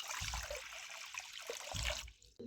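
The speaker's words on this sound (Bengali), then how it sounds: "দিচ্ছি কড়াইয়ের মধ্যে জল।" Water pours into a wok for steaming cabbage, a close rushing splash that runs for about two seconds before stopping abruptly.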